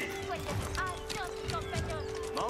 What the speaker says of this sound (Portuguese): Caramba, é muito cavalo.